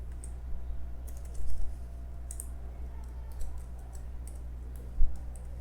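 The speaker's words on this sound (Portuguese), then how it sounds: "Agora eu vou digitar de novo." Typing on a computer keyboard: scattered bursts of light key clicks and taps, fairly close, with brief pauses between bursts and a couple of louder keystrokes.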